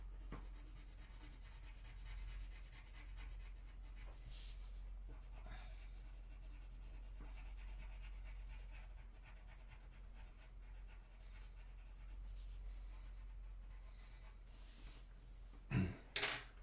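Very faint, continuous rubbing and scratching of a pencil drawing and doodling on paper, soft strokes over a steady low hum, with a couple of louder scuffs near the end.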